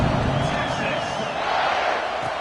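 A stadium crowd at an NCAA football game keeps up a steady, continuous roar and murmur that stays even in level throughout, with no distinct cheer rising above it.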